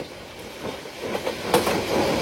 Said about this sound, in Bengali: আর আমাদের ট্রেনটি এখন Srinidhi railway station through pass যাচ্ছে।